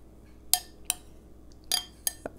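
Canned tomatoes spooned into a casserole dish, a few sharp metallic clinks of a spoon against the can and dish, spaced irregularly and fairly quiet, with no talking.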